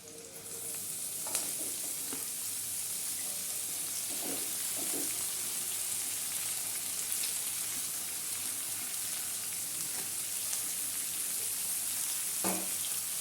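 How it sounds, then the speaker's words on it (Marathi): Chopped cabbage with turmeric sizzles steadily in a pan while being stirred, a soft continuous fry with occasional scraping clicks of the spoon, heard alone at moderate loudness. "आता यामध्ये आपण पत्ताकोबी चिरलेला पत्ताकोबी टाकून घेऊ"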